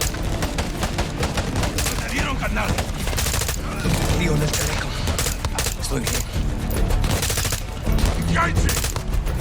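Video game firefight with dense, rapid bursts of gunfire and automatic weapons crackling continuously, loud and close, while voices talk over the shooting.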